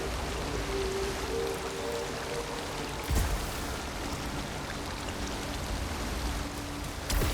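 Steady flowing water in Returnal, an even wash of rushing noise that runs throughout at moderate level, with a couple of brief louder splashes and a faint tonal hum beneath.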